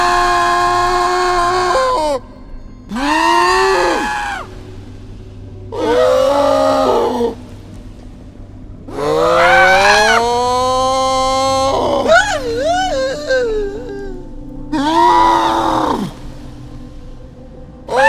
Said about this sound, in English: listen to Troy's screaming, especially when it's dipped in acid